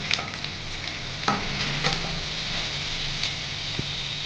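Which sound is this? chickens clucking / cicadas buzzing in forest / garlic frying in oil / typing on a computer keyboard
garlic frying in oil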